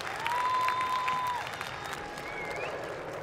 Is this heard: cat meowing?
no